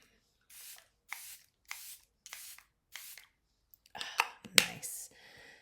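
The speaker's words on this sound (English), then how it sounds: "And then I'm going to use my Charlotte Tilbury setting spray." Charlotte Tilbury makeup setting spray spritzes from a pump bottle in five short, evenly spaced bursts, close and fairly soft, followed by a few clicks and rustles.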